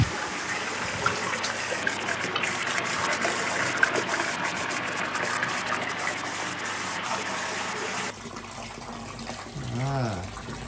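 Water gushes steadily into a koi pond as it fills, a constant close broadband rush that drops to a lighter trickle near the end, with a brief voice rising over it.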